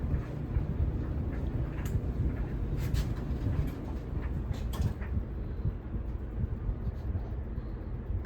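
A 1996 Holmes box fan, model HABF-25, runs on its low setting, giving a quiet, steady broadband whoosh with faint rattling clicks from its shaking, close by with no talk.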